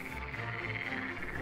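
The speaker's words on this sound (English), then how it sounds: "This particular one, which is the Pacific, it's now called Pacific chorus frog." A Pacific chorus frog croaks outdoors in a continuous, faint, trilling call that runs steadily with no pause and no voices.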